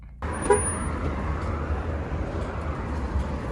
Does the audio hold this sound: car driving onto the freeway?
yes